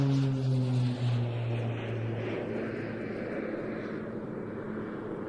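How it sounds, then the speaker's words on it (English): Slovenian Air Force Pilatus PC-9M Hudurnik turboprop in a flying display, a steady propeller drone with a strong low tonal hum that shifts pitch early on, then a broad fairly loud roar holding on alone. "here is the PC-9M Hudurnik of the Slovenian Air Force"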